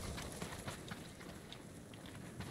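Horse hooves clip-clop in the video game Ghost of Tsushima, a quick, uneven run of thuds over faint ambient background, fairly quiet.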